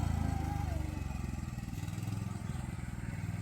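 A child drives a mini tractor during a training session, its small engine giving a steady, low pulsing chug that runs continuously at close range with no voices on top.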